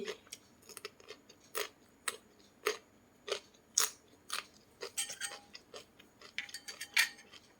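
Someone eats jumbo-pack Mama instant noodles, with repeated close, crisp slurping and chewing bursts spaced roughly every half second to second, alone and fairly quiet.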